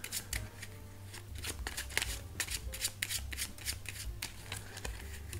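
Half a deck of playing cards is shuffled by hand, giving quiet, close crisp riffling and snapping bursts in an uneven rhythm over a low background hum.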